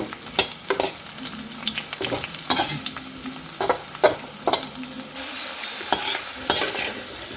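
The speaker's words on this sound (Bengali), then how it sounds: "এদিকে আলুটাও ভালো করে ভেজে নেব" Potato pieces fry in hot oil in a pan for a vegetarian curry, a steady close sizzle broken by repeated scraping strokes of a spatula stirring them.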